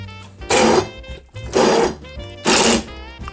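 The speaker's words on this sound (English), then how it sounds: "So step one, puree the blackberries." An immersion blender purees blackberries for a blackberry jam cake batter, running in three loud bursts of roughly a third of a second each, separated by short pauses.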